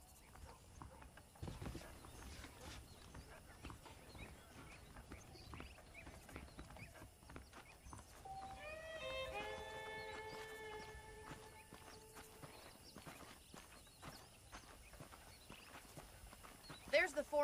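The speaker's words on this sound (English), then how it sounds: "The horses are saddled up over here." Saddled horses in Red Dead Redemption clip-clop at a walk, with faint, irregular hoof beats under in-game character dialogue and a brief whinny partway through.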